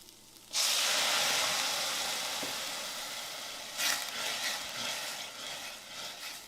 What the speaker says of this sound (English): So you want to bring this to a boil, and basically we're going to spend about 5 minutes on this, just cooking off the alcohol flavor